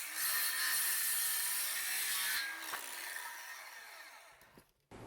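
A power saw cuts through a wooden board guided by a clamped board and a 2x4 spacer, a loud continuous whine and grind that fades as the cut finishes, then abruptly stops.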